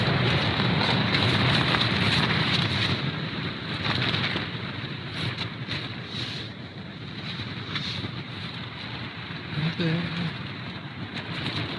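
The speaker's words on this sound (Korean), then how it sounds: "바람이 너무 강하게 불어서 텐트가 쪼그라들기 시작했습니다." Strong, steady wind roars and buffets a tent at night at Shidakako Camping Ground in Japan, a loud continuous rushing with gusty swells and flapping, no voices.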